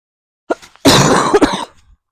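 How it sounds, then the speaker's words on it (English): A short throat-clearing sound, then a harsh, raspy cough burst up close, trailing off into quiet. "This cough is annoying me now."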